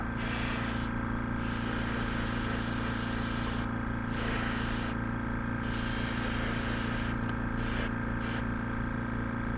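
A continuous airbrush-like hiss of spraying, steady and close, with brief changes in tone as the spray is interrupted and resumed.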